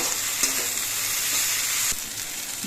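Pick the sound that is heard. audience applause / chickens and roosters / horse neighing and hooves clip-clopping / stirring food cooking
stirring food cooking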